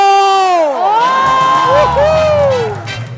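A studio audience at a comedy talk show lets out a loud, sustained collective shout and cheer, with drawn-out voices rising and falling together for about three seconds.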